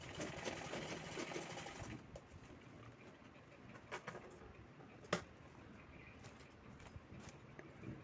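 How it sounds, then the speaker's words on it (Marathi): A sewing machine stitches the side of a bag made from an old saree, a faint, steady mechanical whir in the first two seconds that then drops to a quiet room with a few small clicks. "त्यानंतर दुसरी बाजू शिवून घ्यायची आहे अशीच"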